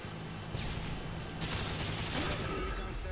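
Gunfire in the video game Modern Warfare 2, a steady wash of loud rapid shots and background battle noise, with a voice talking over it.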